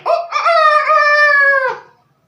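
A single loud rooster crow, close and clear, rising then holding a long drawn-out note before cutting off.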